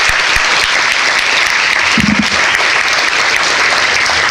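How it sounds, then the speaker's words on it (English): Loud, sustained applause from an audience at a business breakfast award presentation, a dense steady clapping that fills the whole stretch. "Give Jerry Poppy another big round of applause."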